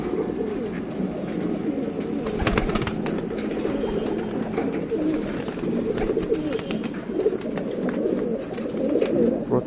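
Several pigeons coo in low, repeated throaty calls close by while being given water during a heat wave, with a few brief rustles and wing flutters in between.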